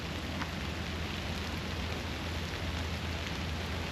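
Steady rain falls at Stone Mountain on a foggy day, a continuous soft hiss of drops over water and ground, even and fairly faint with no speech.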